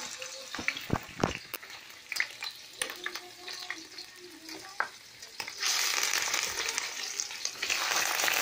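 Pieces of rabbit for a stew of rabbit and potatoes frying in hot oil at a hearth, sizzling with scattered pops and sharp clacks of stirring, the sizzle swelling louder and denser toward the end.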